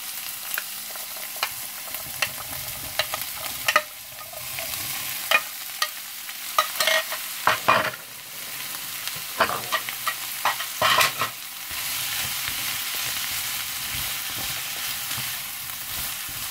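Potato filling with onion and lardons sizzling in a pan while a spoon scrapes and stirs it, giving a string of sharp clacks and scrapes over a soft, steady fry.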